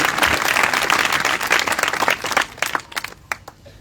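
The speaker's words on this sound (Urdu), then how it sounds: "تالیاں بجانی ہے تو بجاؤ" Congregation at a revival meeting in Chak AmratNagar, Mian Channu, breaking into dense, loud applause that thins into scattered individual claps before fading out.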